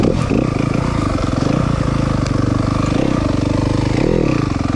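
A 2023 Yamaha 250FX dirt bike engine under throttle, a loud, close, continuous buzzing drone with small rises in pitch as the rider rolls on the gas.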